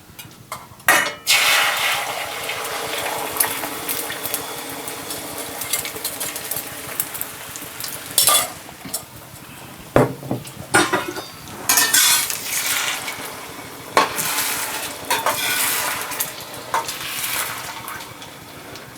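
Utensil scraping and clinking against a stainless steel skillet while scrambled eggs cook, with several sharp metallic knocks and scrapes spread irregularly over a faint background, no speech.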